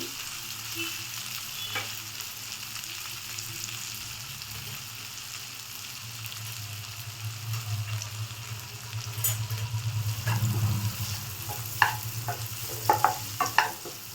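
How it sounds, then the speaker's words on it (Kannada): Soft continuous sizzle of chopped onions frying in oil in a pan while cooking egg pepper gravy, with a few scraping stirs and clinks near the end, heard alone at low volume. "ಹಾಕ್ಕೊಂಡು ಚೆನ್ನಾಗಿ ಈರುಳ್ಳಿ ಸಾಫ್ಟ್ ಆಗೋವರೆಗೂ ಫ್ರೈ ಮಾಡ್ಕೊಳ್ಳಿ"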